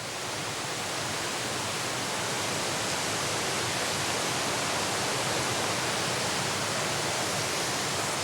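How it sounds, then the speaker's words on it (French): Continuous thundering roar of dozens of mountain torrents and a waterfall echoing in the Cirque de Gavarnie in the Pyrenees, loud and unbroken throughout. "Le grondement de dizaines de torrents résonne dans le cirque."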